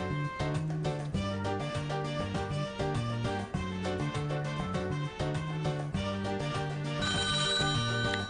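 A telephone rings with a steady electronic ringtone pattern, loud and continuous, as a viewer calls in to a Polish TV game show studio, with no voices over it.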